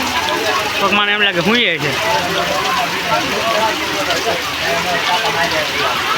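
Heavy rain falls steadily in a flooded area near the Shetrunji dam by Sartanpar port, a dense continuous wash of noise throughout, with someone talking over it.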